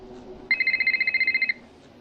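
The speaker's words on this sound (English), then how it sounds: "That phone call actually really scared the crap out of me because it's like 1 in the morning." A telephone rings in the Nancy Drew game Shadow at the Water's Edge: a single burst of fast, regular electronic trills lasting about a second, clear and close over quiet background sound.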